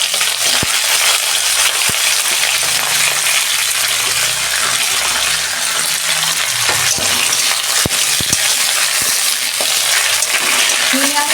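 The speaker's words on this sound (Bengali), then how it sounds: "তেল গরম হয়ে গেছে, শিমটা 2 মিনিট ভেজে নেব" Flat beans frying in hot oil in a wok give a loud, steady, close sizzle throughout, with occasional sharp clicks and scrapes from stirring.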